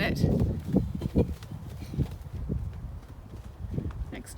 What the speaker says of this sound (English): Next door's horses come to watch,